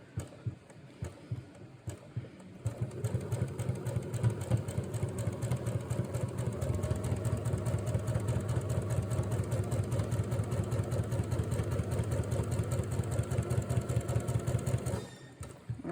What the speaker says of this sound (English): just keep sewing right onto the second square and all the way to the corner